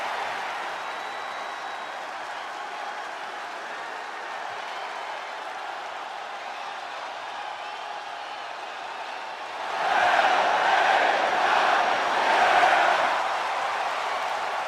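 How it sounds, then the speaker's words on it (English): Crowd in a WWE 2K25 wrestling game arena swells into a loud roar and cheering for a wrestler's entrance, rising suddenly after a steady, quieter hum of arena ambience. "the roar of the crowd tells you all you need to know."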